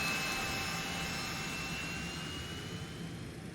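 Business jet engine of a Citation X spooling up during startup in the X-Plane 12 flight simulator, a steady whining roar with a high tonal whistle, continuous and fairly loud throughout with no voices.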